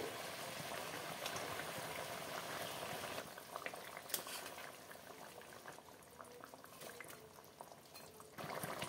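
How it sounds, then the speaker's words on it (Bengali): Fish curry gravy for a Batsahi katla recipe bubbles at a steady boil in a pan, a dense continuous simmering hiss with small pops, close and fairly loud, with no talking. "ঝোলটা ফুটে এসেছে, দিয়ে দেবো মাছগুলো"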